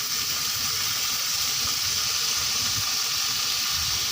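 Lentils fry in oil in a pan along with onion, tomato and spices, giving a steady, bright sizzling hiss that carries on evenly with no talk.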